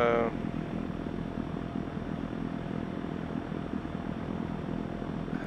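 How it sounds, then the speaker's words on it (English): A Mooney Ovation's engine drones steadily inside a VR flight simulator game, a constant mid-level propeller hum with a brief tonal chime at the start. "Jewel, we're flying the Mooney Ovation"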